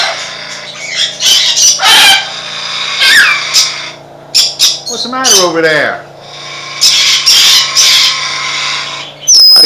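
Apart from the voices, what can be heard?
parrots squawking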